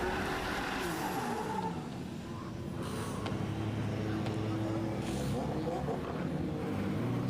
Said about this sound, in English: So now Maddie pulls up to the line, M50 Turbo BMW E81, E82, correct me if I'm wrong, 1 Series.